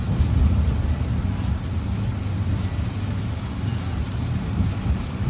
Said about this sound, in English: Sorry about the rain, folks.